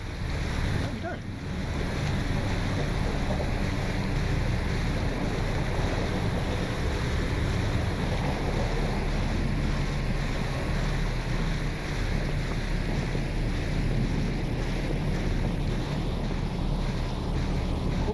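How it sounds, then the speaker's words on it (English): Water rushes into a submarine hull through a leak in the video game Barotrauma, making a continuous loud broadband wash of flowing, surging water and roaring noise that holds steady throughout with no clear pauses. "I think we have a leak in here"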